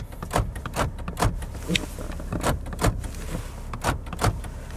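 Power door locks on a used car cycled several times, a rapid series of sharp mechanical clunks in quick bursts, close and loud, with a low cabin hum between them.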